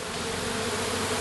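A swarm of honeybees buzzing steadily, a dense and continuous hum from many insects close by, heard alone with no talking.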